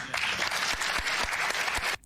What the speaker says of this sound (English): someone will play the clapping of the audience